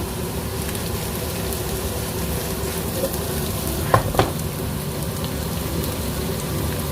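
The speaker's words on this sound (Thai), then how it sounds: "ผัดในปลายนะต้องใส่น้ำมันเยอะ ใส่เนยผสมน้ำมันขอให้เขาหอมผัดจี้เอา" Boiled potatoes and carrots sizzle steadily as they are stir-fried in butter mixed with oil, a dense crackling hiss broken by a couple of sharp utensil clinks against the pan.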